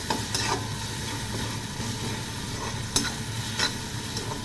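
Tomato stirred into fried onions in a pan while cooking cabbage curry, a soft continuous sizzle under the occasional scrape and tap of a spoon against the metal, fairly quiet and close.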